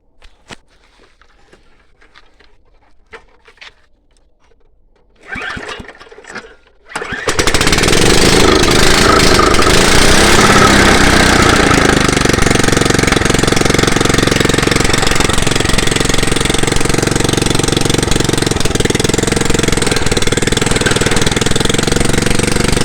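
A small Chinese-made motorbike engine with its exhaust missing is kicked and started after near silence, then runs very loud and harsh, a continuous rattling, hammering roar close by that continues steadily to the end.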